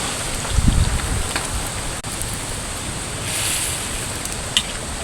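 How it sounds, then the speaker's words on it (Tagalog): Strong wind gusting outdoors near a vegetable garden, a steady broadband roar buffeting the microphone, with a few small knocks and no talking. "Lakas kasi ng hangin."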